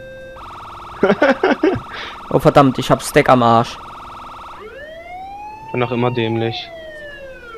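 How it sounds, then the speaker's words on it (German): An ambulance siren from Saints Row The Third wails in a steady two-tone pattern, loud and close. Someone talks over it in bursts, and a second, rising siren sweep enters later under further speech. "wenn man als Krankenwagen die Sirene anhat"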